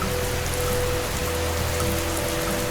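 Heavy rain pours steadily in a dense, continuous hiss, loud and close throughout, with a low rumble beneath, in an animated horror story scene.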